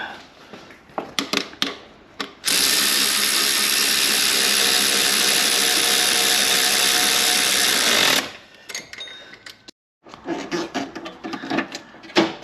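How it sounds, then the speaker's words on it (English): A ratchet or power tool driving 13mm and 8mm bolts into power steering pipe brackets on a Ford Focus MK2, with scattered clicks, then a loud steady run of about six seconds and more rattling clicks after. "threading these 13mm and 8mm bolt back into the brackets after a bit of persuasion and brute force"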